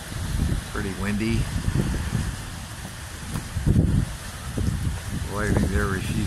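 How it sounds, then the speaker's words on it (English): Steady, heavy wind roar from a monsoon storm with lightning, filling the recording, with short bursts of talking breaking through now and then. "Pretty windy."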